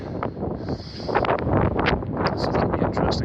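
Gusty wind buffets an outdoor microphone in a steady rushing roar, with soft rustling bursts rising and falling through it; no voices.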